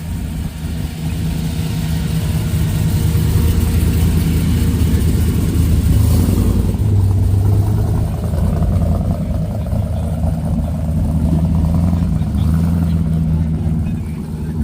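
A customized 1955 Chevrolet Bel Air at a car show in Port Washington, New York, idles with a low, rumbling engine note and occasional light revs, while crowd chatter and outdoor bustle carry on around it.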